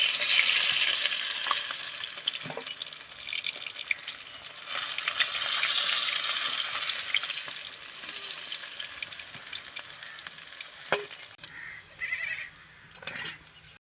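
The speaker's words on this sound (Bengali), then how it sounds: "আমার মাছগুলো ভাজা হয়ে গিয়েছে দেখো বলবো লাল লাল হয়ে গিয়েছে" Pangas fish pieces fry in oil with a loud, continuous close-up sizzle that swells and eases, broken by occasional utensil clatters toward the end.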